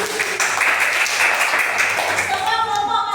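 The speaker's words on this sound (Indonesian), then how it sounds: "Kasih tepuk tangan dulu kelompok empatnya." Audience of students applauding a student group in an Indonesian classroom, a dense steady wash of hand claps lasting throughout with faint voices mixed underneath.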